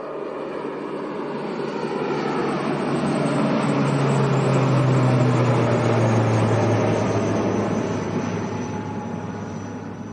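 An Aer Lingus airliner bound for Belfast roars at Leeds Bradford Airport, a loud, broad engine rush that swells toward the middle and eases off again, with no one speaking.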